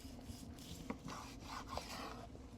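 A knife slicing through cooked tri tip steak on a board, giving soft close scraping and cutting strokes with faint clicks, quiet and without talk.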